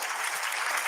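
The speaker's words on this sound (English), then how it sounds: "that's why he's getting applause" Steady applause from an audience at a press club event honoring Elon Musk, dense continuous clapping filling the short moment with no break.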